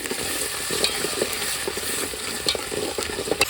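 Onions, chillies, ginger-garlic paste and tomato sauce fry in oil for a sweet corn curry, a close, continuous sizzle broken by repeated spoon stirs and light clinks, with no voices.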